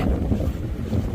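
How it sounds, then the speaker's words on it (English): Loud, continuous wind buffeting the microphone outdoors in Idaho, a low rumbling roar that fills the whole moment with no other sounds. "Oh, sorry about the wind."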